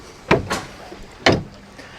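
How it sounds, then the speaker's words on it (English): An acrylic walk-through door on a 2022 Regal 38 SAV boat slides and clunks shut, two short knocking impacts about a second apart, close and fairly loud with no talking. "You do have the acrylic door that closes here."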